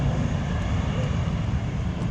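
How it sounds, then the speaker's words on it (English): Airplane taking off at Lanzarote airport, a steady broad roar of engine noise holding at constant loudness throughout, heard from a spotting position near the field. "You can hear this one taking off now."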